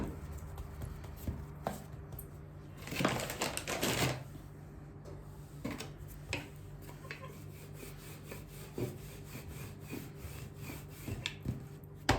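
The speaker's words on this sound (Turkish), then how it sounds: "Hemen ilk aldığımız hamurumuzu açmaya başlayalım." Pita bread dough is rolled out by hand, giving soft, close rubbing and light wooden knocks of the rolling pin at an irregular rhythm over a faint steady background hum.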